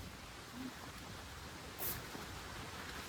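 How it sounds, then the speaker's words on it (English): Steady rain falls on a trek road at dusk, a soft continuous hiss with no distinct drops, faint and even throughout and with no talk. "it's constantly raining"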